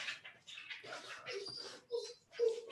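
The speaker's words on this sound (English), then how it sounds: "Oh, this is the dog." A dog whines and whimpers for attention in a quiet room, with a series of soft, high-pitched cries and a couple of louder yelps near the end.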